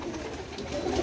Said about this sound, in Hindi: सब कबूतर एक ही कुंदे के कबूतर हैं माशाल्लाह जी